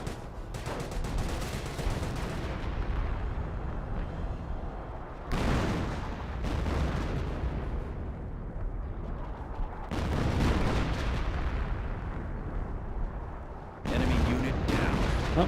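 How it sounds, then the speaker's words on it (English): Bren gun fire in the Company of Heroes game, dense repeated bursts of automatic gunfire and booming battle noise in several long stretches, separated by brief changes in the din. "Bren's firing away."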